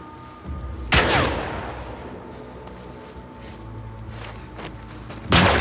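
Gunfire in The Last of Us Part II: two loud, sharp shots about four and a half seconds apart, each followed by a rolling echo, with quieter game ambience between them.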